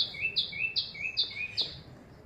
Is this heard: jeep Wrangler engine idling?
no